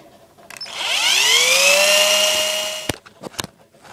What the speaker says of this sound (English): you're gonna drill right here, right up here in the blade